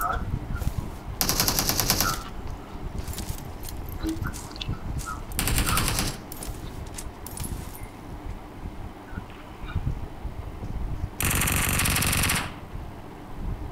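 Gunfire in the mobile battle-royale game PUBG Mobile during a close-range fight on the Nusa map, with three loud sustained automatic bursts over steady in-game ambience.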